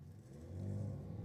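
A Holden Commodore and a BMW drag racing at Sydney Dragway on a competition night, heard as a steady, rising engine roar that swells in the second half.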